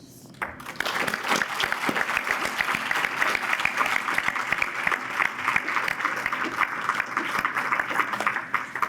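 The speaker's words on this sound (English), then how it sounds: "I'd like everyone to please join me in our first round of applause to acknowledge the strength of our participants" A crowd at a STEP Program graduation claps steadily for the graduating participants, a dense, even round of applause that starts abruptly and continues at full strength throughout.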